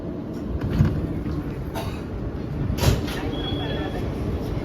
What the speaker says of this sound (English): This is a Manhattan-bound E express train.